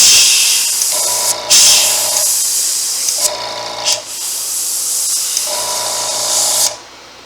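An airbrush hisses out paint onto a latex skinned-face mask in steady, close bursts of a few seconds each, with brief pauses between them and a faint mechanical hum underneath.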